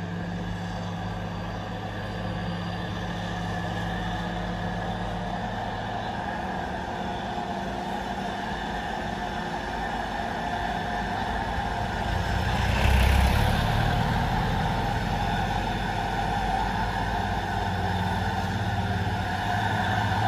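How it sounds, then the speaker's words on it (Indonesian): A dump truck towing a long-chassis trailer truck climbs the Barongan uphill grade, its heavy engine a continuous low drone that swells briefly louder midway, then holds steady, with no voices. "Dam truk narik gandengan long sasis"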